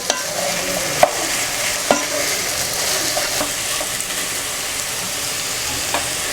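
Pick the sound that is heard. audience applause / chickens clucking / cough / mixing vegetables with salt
mixing vegetables with salt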